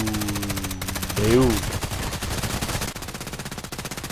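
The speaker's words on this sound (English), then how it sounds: "So many shots." Rapid automatic gunfire from the video game Contract Wars rattles in a dense, steady stream, with a short spoken word near the start and a brief vocal exclamation partway through.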